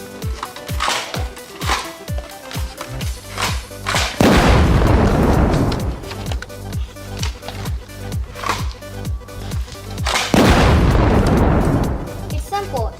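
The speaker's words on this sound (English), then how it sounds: "Let's shoot some missiles at the Hulk." Missiles fire at the Hulk in a video game, a run of booming explosive blasts with two long heavy rumbling bursts, loud and near, over steady game music and effects.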